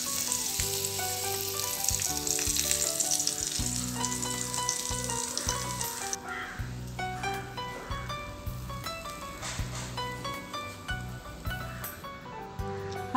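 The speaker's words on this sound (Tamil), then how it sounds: "பாருங்கள், நம்மளோட பன்னீர் டிக்கா எல்லா சைடுமே நல்லா ரோஸ்ட் ஆயிடுச்சு" Paneer tikka roasting in a hot pan gives a steady close sizzle that runs the whole time, with faint clinks and stirring touches over it; the frying hiss thins out about halfway through.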